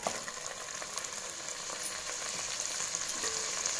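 Marinated mutton fries in a pressure cooker with a continuous crackling sizzle at moderate volume, broken by a few light stirring scrapes, no voices present.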